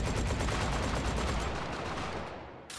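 A Swag 12 shotgun firing blue shells in the VR shooter Hot Dogs, Horseshoes & Hand Grenades, loud rapid repeated blasts forming a continuous fusillade that fades out toward the end.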